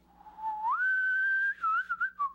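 A person whistles a slowly rising, sustained melody in the style of the Star Trek theme, a clear solo tone sliding upward and then holding and wavering, close and alone without talk.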